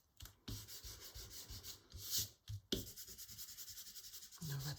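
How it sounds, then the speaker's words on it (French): A rubber eraser scrubs pencil construction lines off paper in a felt-tip drawing of a Russian doll, a close, quiet rhythm of back-and-forth rubbing strokes with brief pauses. "je vais enlever les lignes de construction"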